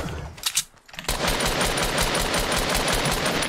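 Gunshots fired in Fortnite. A dense, loud stream of rapid automatic fire runs nearly continuously after a brief scattered few shots and a short pause.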